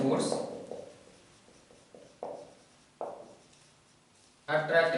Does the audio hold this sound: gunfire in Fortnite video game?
no